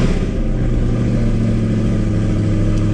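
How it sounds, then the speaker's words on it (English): A Chevrolet Corvette C8 engine runs close by at a steady, loud idle after start-up, its deep exhaust rumble holding even throughout with no one talking. "So if I start the car up"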